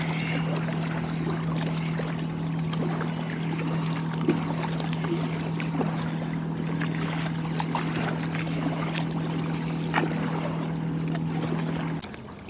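A kayak glides on the water near a bridge in Brooklyn, with steady soft water wash and faint splashes over a constant low engine-like hum and drone.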